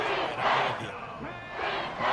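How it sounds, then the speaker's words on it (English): A football stadium crowd roars in swelling waves during a big play, the noise rising and falling loudly with voices mixed through it. "Big play here as the crowd noise rises"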